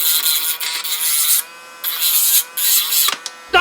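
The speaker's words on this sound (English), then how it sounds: "My Dremel wheel broke." A Dremel rotary tool with a cutting wheel whines in several loud, high-pitched bursts separated by short pauses, then gives a brief crack as the wheel breaks near the end.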